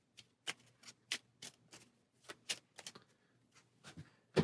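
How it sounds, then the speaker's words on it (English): A deck of Maximum Apocalypse board game cards being shuffled up close, a rapid series of short riffling flicks and taps, quiet and otherwise silent. "we'll take the rest of them and give them a shuffle"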